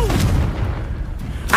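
Spell blasts go off in Hogwarts Legacy, Bombarda and Confringo among them: a heavy, booming burst rumbles through the low end, fades, and then a sharper crack hits at the end.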